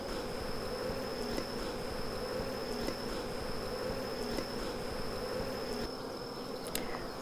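A dense, steady buzz of many honey bees on a hive frame close by, continuous and unbroken with a low droning hum throughout.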